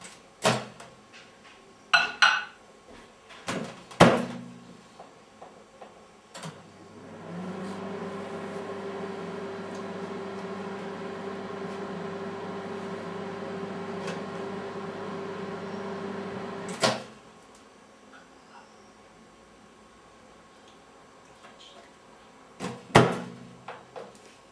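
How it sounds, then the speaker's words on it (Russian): A door clicks shut and a microwave oven hums steadily for about ten seconds before stopping, with handling clatter and a beep-like click around it. "И ставим в микроволновку."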